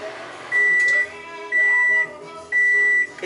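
A microwave hums steadily while three evenly spaced beeps ring out, each about half a second long, one per second, while popcorn is made.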